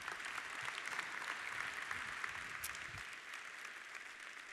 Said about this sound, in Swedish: Stor applåd, Danny!